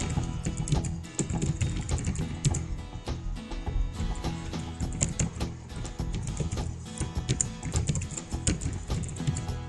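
Steady typing on a computer keyboard while a registration form is filled in, with dense, irregular key clicks running throughout at close range and no voices.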